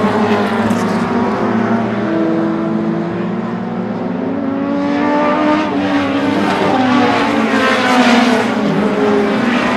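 Short track race cars roar together in a sustained, loud pack at a super short track event, engine drones rising and layering steadily with faint tire squeal, no talking.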